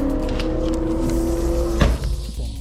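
An Ecotec-swapped Mazda Miata pulls out onto a race track, its engine a steady drone with a sharp knock near the end, close and loud throughout.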